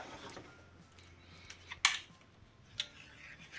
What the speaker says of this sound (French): Et je vais découper donc